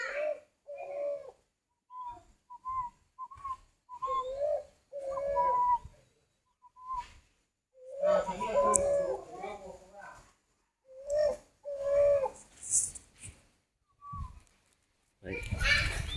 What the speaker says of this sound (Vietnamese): con chim này là mình có thể khiển được, mình vẫy tay thì nó sẽ gáy thôi